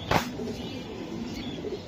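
A racing pigeon gives a short burst of wing flapping up close, followed by faint low cooing over a quiet background.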